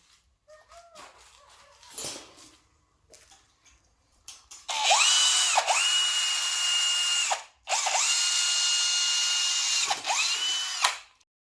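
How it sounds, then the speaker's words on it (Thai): An electric drill fitted with a 1/8-inch bit drills into scrap steel for a window grille, two loud sustained bursts of whining motor separated by a brief stop, with the pitch sagging each time the bit loads up. "สำหรับดอกที่จะเจาะก็เป็นดอกขนาดหนึ่งทับแปดนะผม"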